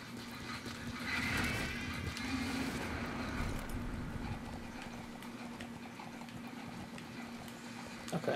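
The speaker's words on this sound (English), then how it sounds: "It's just so epic riding a horse" Horse hooves clip-clop steadily at a ride in the Metal Gear Solid V video game, a faint rhythmic patter under a low constant hum, with no talk.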